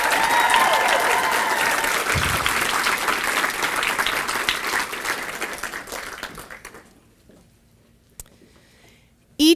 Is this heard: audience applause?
yes